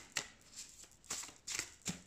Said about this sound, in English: Okay, let's shuffle this deck.